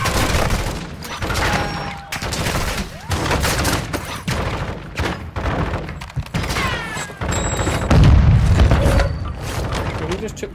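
Gunfire from an online shooter game, a sniper shot among loud booming shots and explosive bursts, with players talking over the action throughout.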